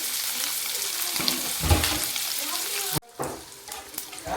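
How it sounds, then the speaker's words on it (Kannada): Onions fry in a pan as they are cooked until red, a continuous close sizzle with occasional stirring scrapes and a brief drop in the hiss partway through, with no talk. "ಈಗ ಚೆನ್ನಾಗಿ ಕೆಂಪಗೆ ಮಾಡ್ಕೋಬೇಕು ಈರುಳ್ಳಿ."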